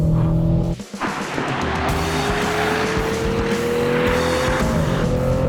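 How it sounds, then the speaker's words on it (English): A race car engine roars at full throttle, loud and sustained, with a rising whine and a brief dip near the start. A tyre squeal sits faintly in the mix, and no one talks. "So now he's giving it full throttle now."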